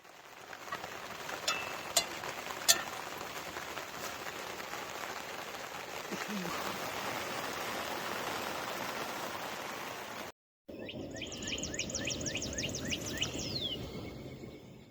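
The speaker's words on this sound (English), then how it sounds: "Although the rain began to fall again as we made camp" Steady rain falling at a campsite in Missouri's Mark Twain National Forest, a dense even hiss with a few sharper drips, continuing throughout after a brief cut, with faint bird chirps near the end.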